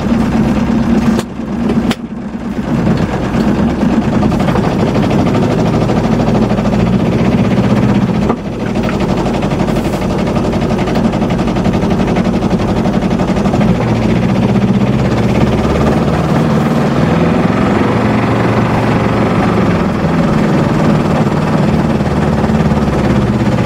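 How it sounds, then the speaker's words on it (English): Engine of an Aixam Mega Multitruck small van running in a driveway, a loud steady low rumble with a slight shift near the start and constant vibration throughout. "I've got to run it a little bit backwards and forwards in the driveway."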